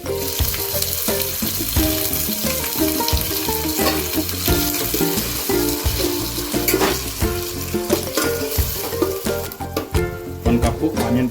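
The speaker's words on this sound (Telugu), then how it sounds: "ఆనియన్ పేస్ట్ మంచిగా ఆయిల్లో డీప్ ఫ్రై కావాలి" Onion paste deep frying in oil for a village-style spinach chicken curry, a steady loud sizzle with bubbling crackle throughout, overlaid by background music and occasional clinks, no speech.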